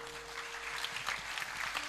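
An audience at an Indonesian religious sermon applauds briefly, a dense, even crackle of many hands clapping at moderate loudness with no talking over it.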